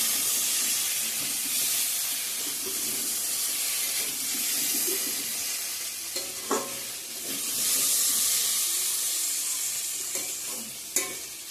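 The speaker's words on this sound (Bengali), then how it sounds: "গরম জল অ্যাড করে দিয়ে দিলাম।" Hot water poured into a frying spice paste for an egg curry with potatoes, a loud, steady, hissing sizzle lasting throughout, close up, with a few scraping stir clicks and no talk.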